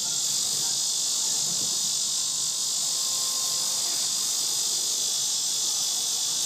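A steady, piercing chorus of cicadas rings from woods close by, loud and unwavering throughout, with faint low rustling beneath.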